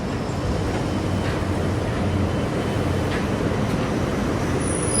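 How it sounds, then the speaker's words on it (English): Broadband rumble of a Walt Disney World monorail train passing at Magic Kingdom, a steady, fairly loud roar holding level for the whole stretch with no voices over it. "There's the red monorail."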